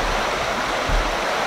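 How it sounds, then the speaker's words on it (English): Floodwater rushing like a river across a flooded homestead property, a loud, steady broadband roar of fast-flowing water, close and continuous with no pauses. "Our new river that we have in our property."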